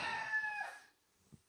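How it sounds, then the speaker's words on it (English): A rooster crows once, close and loud, its long drawn-out call trailing off, followed by a short quiet pause and a faint cluck. "I wish the roosters would stop now"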